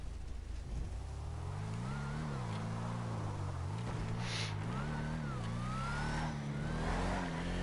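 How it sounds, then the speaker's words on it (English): Car engine in GTA Online, a steady mid-pitched drone with harmonics that rise and fall as the car revs and shifts, continuous and fairly thin rather than deep, with no talking over it. "Only thing I don't really like about this car so far is the engine sound. It is not very muscly."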